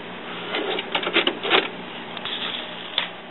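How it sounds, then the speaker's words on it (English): An HP Deskjet inkjet printer fitted with an HP 61 black cartridge setup prints pages, giving a series of short mechanical whirs and clicks that come in bursts, moderately close, with no talking. "Now I'll go over and start to print some pages out."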